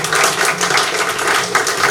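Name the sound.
students clapping in class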